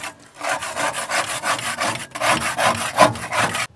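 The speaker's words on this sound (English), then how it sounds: "we'll end up giving the diffuser a scrape" Steady, rasping back-and-forth scraping of a metal tool across a pellet grill's diffuser plate crusted with a year of buildup and some rust, close and continuous with short pauses, no talking.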